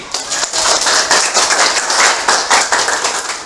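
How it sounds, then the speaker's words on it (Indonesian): An Indonesian primary school class claps hands together for a presenting group, a steady loud patter of many small hands throughout. "Tepuk tangan sekali lagi."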